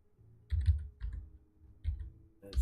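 A few bursts of computer keyboard typing, close and fairly quiet, with short pauses between clusters of keystrokes while someone writes WPF application code in Visual Studio 2022.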